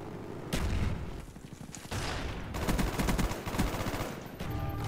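Automatic gunfire in the Black Ops video game with heavy recoil: several loud, rapid bursts of fast repeated shots separated by short pauses, close and dominant without speech.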